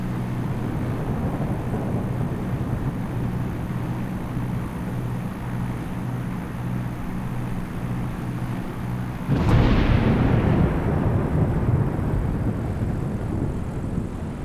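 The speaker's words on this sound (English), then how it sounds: "Got here just in time for the afternoon thunder." An afternoon thunderstorm in a flight simulator game: a sudden sharp thunder crack breaks out and rolls into a rumble over the steady drone of a parked aircraft's engine.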